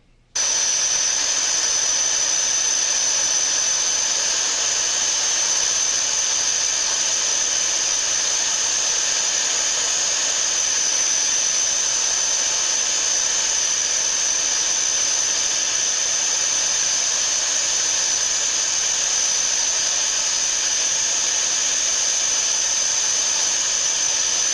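A torch brazes a capillary tube into a refrigerator evaporator, giving a steady, loud, unbroken hissing roar that runs for over twenty seconds close to the ear, with no talk.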